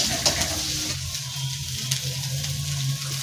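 Capsicum and spices stir-fry in a kadhai with a continuous sizzle, broken by a few scraping stirs, heard up close with no talking.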